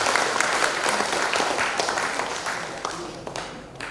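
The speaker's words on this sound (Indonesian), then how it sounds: "Kita beri aplaus sekali lagi." Audience at an open doctoral examination breaks into sustained applause, a dense wash of clapping that stays loud and fades slightly toward the end, with no speech over it.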